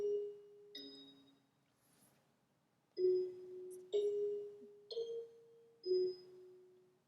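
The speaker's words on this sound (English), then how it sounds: "Sorry, that was the lunch bell." School lunch bell sounding as a series of faint electronic chime tones, about six evenly spaced dings with pauses between, distant and soft with no voices.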